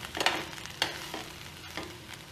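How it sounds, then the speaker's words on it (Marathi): Stuffed masala okra with tamarind and jaggery being stirred in a pan, a few soft scraping strokes over a faint sizzle, fairly close and quiet, with no talking. "आणि चांगली मिक्स परत एकदा मी ती हलवून घेणार आहे"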